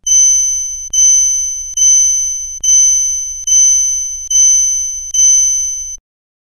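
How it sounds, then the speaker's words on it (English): Seven identical clear chime tones from a Citizen G910 watch minute repeater ring in an even, steady sequence, indicating seven minutes, each with a bright ping that slowly decays, then silence. "7 minutes would be indicated by the following sequence of tones"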